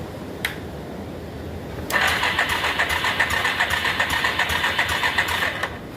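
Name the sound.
turbocharged Yamaha Big Bear ATV engine starting and running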